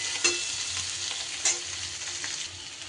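Spiced potatoes stirred and fried in a pan give a constant close sizzle, broken by a couple of sharp scrapes of the spoon against the pan.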